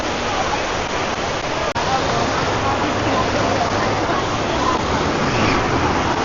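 Sprite Falls pours as a loud, steady roar of rushing water, a dense unbroken wash close by, with no clear voices above it.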